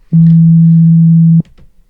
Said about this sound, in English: I have an operator that's generating a sine wave